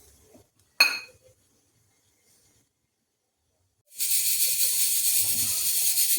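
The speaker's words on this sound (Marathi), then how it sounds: "बटाट्यांना असं थोडंसं उलटपलट करून घेऊया थोडंच भाजायचं आहे" Boiled potatoes turned over on a stove for roasting: a sharp metallic clink near the start, a quiet pause, then a loud steady hiss of roasting that carries on to the end.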